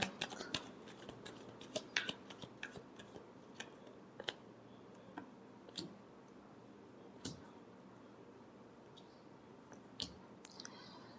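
Tarot cards are shuffled by hand in quiet, close, irregular flicks and snaps, with soft papery riffles and scattered sharp clicks spaced over several seconds in a calm room, with no talking.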